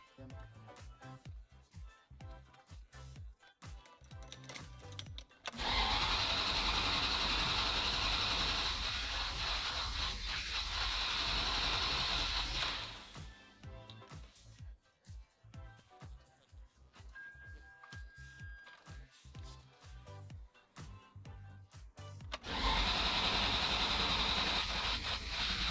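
A Ferrari 360 Spider engine running in long loud stretches that alternate with quieter spells of talk, the steady roar returning after each pause.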